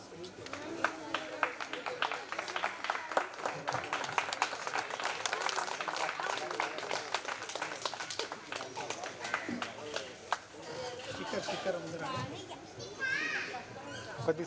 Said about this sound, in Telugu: అందరు గట్టిగా చెప్పట్లు కొడుతూ సార్ గారిని అభినందించడం